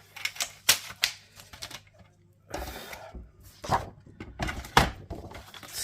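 Two layers of cardstock being trimmed down to size with a paper trimmer, producing a series of close, sharp clicks and thunks followed by longer sliding cuts, quiet and without speech.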